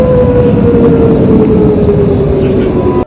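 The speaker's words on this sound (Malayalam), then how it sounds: "വീണ്ടും അപകട സൈറൻ മുഴങ്ങുകയാണ്" An air raid warning siren in Bahrain, a single loud, sustained wailing tone that slowly falls in pitch over a rough background roar, then cuts off abruptly.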